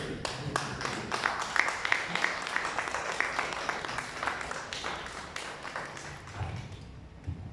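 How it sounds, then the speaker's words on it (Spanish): Audience applause at an anniversary event, a scattered burst of individual claps, loud at first and then thinning out and fading as the clapping tapers off. "Que se escuche más fuerte esos aplausos, por favor."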